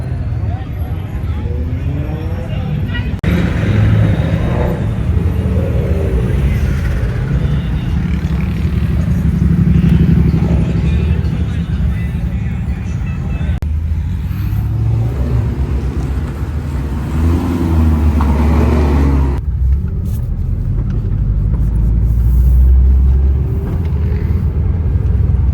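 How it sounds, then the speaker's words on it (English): Chevrolet Camaro engine rumbling steadily and surging as it drives, a loud, continuous low-end drone with rising and falling revs, heard from inside the car with voices talking over it. "Camaro sounds sick."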